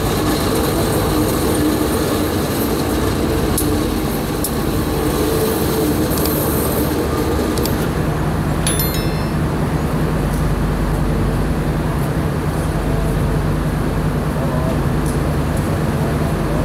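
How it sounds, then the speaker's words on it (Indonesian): The diesel locomotive of the Ijen Express drones steadily as it is turned and shunted in the yard, with a brief high metallic squeal partway through and constant background rumble. "Lokomotifnya sudah berhasil dipindah arah haluan kabinnya, tinggal nanti langsir dan siap gandeng ke rangkaian kereta Ijen Express lagi"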